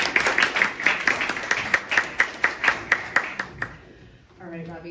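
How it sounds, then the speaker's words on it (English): Applause at a climate and banking summit, a modest audience clapping in a fairly rhythmic pattern that fades out after a few seconds before a voice starts talking. "Applause, please."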